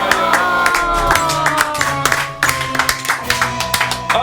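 An audience on a French regional quiz show breaks into sustained, dense clapping, with sharp individual claps standing out over a steady wash of applause.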